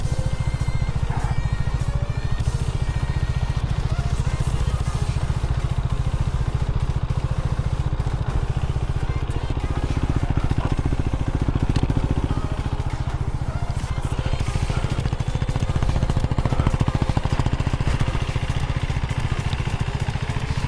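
A KTM Duke 390 motorcycle is being ridden, its engine a steady, loud drone with constant wind rumble throughout and no clear gear changes.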